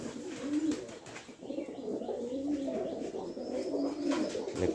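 Fantail pigeons at a pigeon market in Kurigram coo in repeated soft, throaty phrases over crowd ambience, with faint chirps around them.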